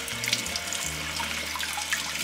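Tap water runs steadily into a kitchen sink while tomatoes and other vegetables are rinsed, a close, continuous splashing with no one speaking.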